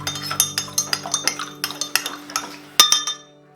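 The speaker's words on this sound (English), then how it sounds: "Give that a stir." A metal spoon stirs sugar into water in a glass while bread dough is being prepared, giving a quick series of light, clear clinks against the sides in an uneven rhythm, close and alone.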